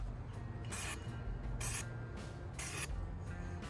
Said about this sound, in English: So that's cutting paper very well.